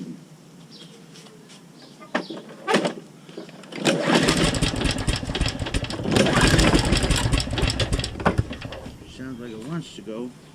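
A Cub Cadet SR621 riding mower with a blown head gasket cranks and tries to start, sputtering into a rough, uneven engine roar that surges and fades over several seconds. Someone speaks briefly near the start and end.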